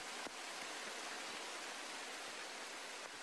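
Water pours without a break at the Shiraito no Taki falls near Mount Fuji, where cascades spill from a cliff. The rush is a dense, even broadband hiss with no break and no voices, like close steady rain.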